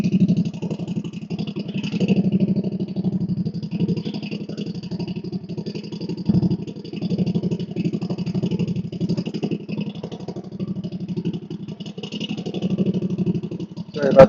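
A lawn mower engine runs steadily right beside the muffler, a loud, close, rough mechanical drone that holds for about fourteen seconds with slight fluctuations, while a person talks over it.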